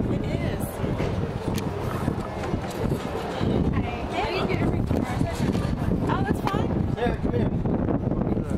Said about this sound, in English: It is rather windy, isn't it?